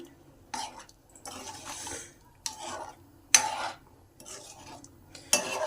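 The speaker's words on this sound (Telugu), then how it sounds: "కొద్దిగా వేస్తున్నాను ఒకసారి బాగా కలుపుకుందాం" A spoon stirs a mutton and okra curry in a pot, scraping and clinking in several separate strokes against the metal, close and fairly quiet, with short pauses between them.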